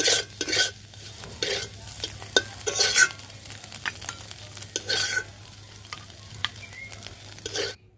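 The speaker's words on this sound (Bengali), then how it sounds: "ডিমটা ঝুরি করে ভাইজা নিছি" Scrambled egg frying in a pan, with a loud sizzle and repeated scraping strokes of a spatula stirring it close up, the crackle continuing steadily between strokes.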